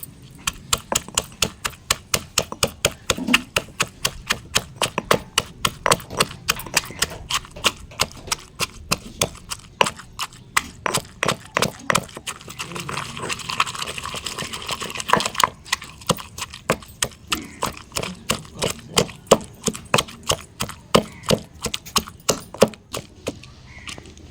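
Cumin and garlic are pounded with a mortar and pestle for brinjal pachadi, a long run of sharp, evenly spaced thuds at a steady, quick rhythm, close and clear, with brief pauses and a faint voice in the background.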